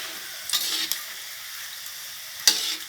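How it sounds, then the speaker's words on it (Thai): Boiled eggs fry golden in a pan of spattering oil for son-in-law eggs, giving a close, even sizzle with a pair of early pops and a sharper loud crackle near the end. "ไม่ชอบทอดเพราะว่างี้มันกระเด็น โอ้ไม่ชอบแล้วมันน้ำมันกระเด็นเนี่ย"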